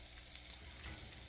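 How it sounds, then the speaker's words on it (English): Ground hamburger meat sizzles and fries in a pan while being stirred with a plastic spatula, a steady, dense crackle with soft scraping. "I got to stir this hamburger. I'm going to tilt you down here to where you can see it frying here."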